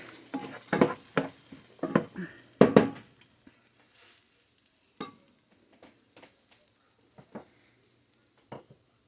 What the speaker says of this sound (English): we're just going to sweat these vegetables down a little bit